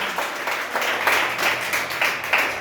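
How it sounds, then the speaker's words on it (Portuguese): Church congregation clapping steadily together in a dense, rhythmic burst of applause, fairly loud, with no talk. "Que as suas palmas glorifiquem ao Senhor."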